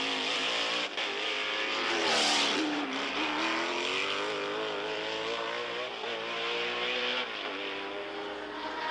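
Race cars roar around the Trois-Rivières street circuit, engine notes rising and falling steadily through gear changes as the cars sweep past, loud and continuous with no voices.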